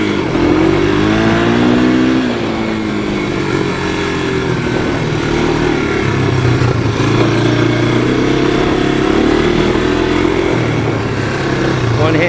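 A 1985 Honda ATC 250SX three-wheeler engine runs loud and close while being ridden, its droning note rising and falling with throttle changes over a steady rumble, with no pauses.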